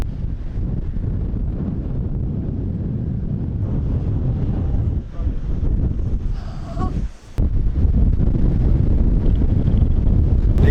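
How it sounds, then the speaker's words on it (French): Strong wind buffets the microphone outdoors in Malaga, a loud, continuous low rumble with gusty swells and a brief dip near the end, with no talking. "Les gars, il y a trop de vent"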